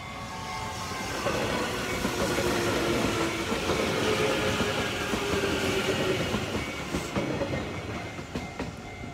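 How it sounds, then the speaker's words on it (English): A passenger train rolls into a station with a steady rumble and rhythmic clatter of wheels on track, close by, gradually easing off as it slows. "And here comes another train for you to enjoy."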